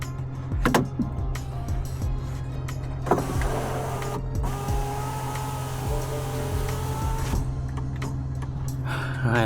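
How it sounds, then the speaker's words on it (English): A power window motor in a BMW 328i E90 whirs steadily, driving the glass all the way down and back up after a window regulator replacement. The drone is close and continuous, with brief clicks where the motor stops and starts. No one talks. "rolls down completely, rolls up completely"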